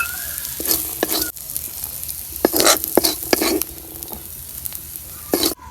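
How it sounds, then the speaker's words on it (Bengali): Chickpeas fry in oil with a loud, close sizzle, broken by bursts of stirring and scraping against the pan at irregular moments, and no talk. "বুট আমার ভাজা হইলো"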